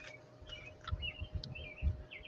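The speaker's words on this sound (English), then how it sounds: "I love hearing the birds chirping." Small birds chirp and tweet in short bright calls, several overlapping, over a low rumbling background.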